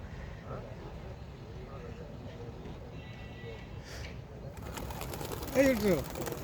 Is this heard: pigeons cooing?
yes